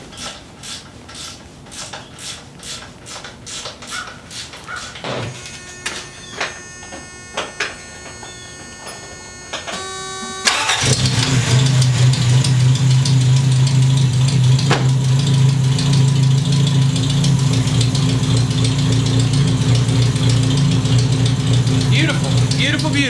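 A car's engine started from cold: a run of light clicks and metallic taps, then the engine catches and settles into a loud, steady idle with a low hum that continues uninterrupted to the end.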